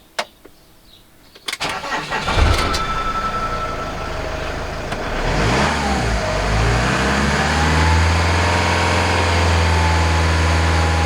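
A vehicle engine cranks after a few clicks, catches with a loud roar, revs up and settles into a steady rumbling idle.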